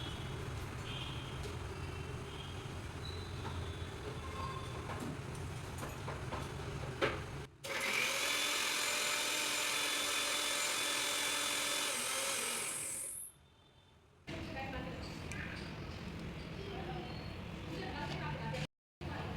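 A mixer grinder purrs loudly as it grinds green chili, tomato, fennel, cumin and a little yogurt into paste, running steadily for about six seconds before it cuts off, with kitchen noise before and after.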